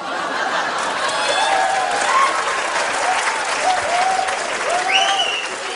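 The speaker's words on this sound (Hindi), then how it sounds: "जोरदार तालियां सारे कंटेस्टेंट्स के लिए।" Studio audience on a Hindi comedy talk show applauding the contestants, loud steady clapping throughout with scattered laughter and chuckles mixed in close by.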